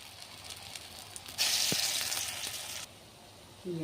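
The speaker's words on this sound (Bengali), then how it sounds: "বড়াগুলি সুন্দর করে লাল লাল করে ভেজে নিতেছি" Hot oil sizzles quietly as fritters fry, flaring into a louder burst of crackling frying for a second or so before settling back down.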